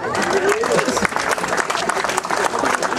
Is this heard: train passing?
no